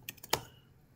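A few quick keystrokes on a computer keyboard as a password is entered into an SSH login prompt, close and fairly quiet, a short burst of three or four clicks followed by silence.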